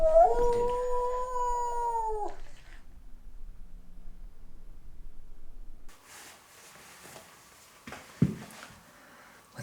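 A dog howls indoors during a night-time investigation of an old manor: one long, loud, wavering howl close by for about two seconds, then quiet room tone, faint shuffling and a sharp knock.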